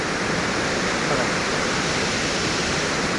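Waterfall dropping out of forest in the Konkan region, a loud, dense, unbroken roar of falling water close by, steady from start to finish with no voices.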